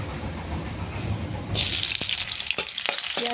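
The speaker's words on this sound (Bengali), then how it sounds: "আলু আর পেঁয়াজটা লাল করে ভেজে নেবো।" Onion frying in mustard oil in a wok sizzles steadily, a broad hiss that grows brighter midway, with a few sharp clinks and scrapes of stirring near the end.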